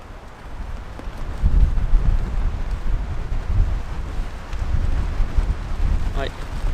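Strong wind buffeting a tent campsite during a heavy rainstorm, a steady loud rumbling roar with gusty surges close to the microphone and no speech.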